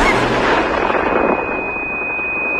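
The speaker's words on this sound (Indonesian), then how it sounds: "Namun saat telepon terhubung, Hejo mendengar suara ledakan." A heavy explosion rumbles and roars, then decays into a lingering wash of noise with a thin high ringing tone.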